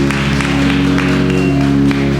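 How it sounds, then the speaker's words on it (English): A church congregation claps for Apostle Ivory Jenkins during a service. Scattered claps come through under sustained organ-like tones and a low hum that dominate the sound. "Clap your hands for Apostle Ivory Jenkins."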